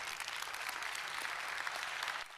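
Steady, dense audience applause at a motivational talk, an even wash of many hands clapping for a couple of seconds before easing off at the end.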